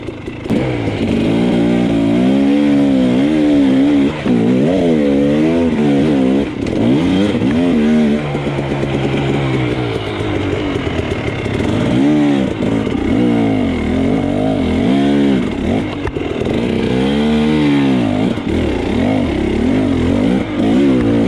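A hard enduro dirt bike revs hard and continuously while struggling up a steep hill at the 2020 SEER Cliffhanger race, its engine loud and close, rising and falling with throttle blips and wheelspin.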